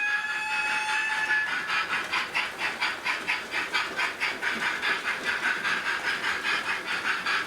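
Pair of Hornby J36 model steam locomotives circling a model railway layout, giving a steady rhythmic chuffing hiss with light clickety-clack, fairly close and continuous, with no talk.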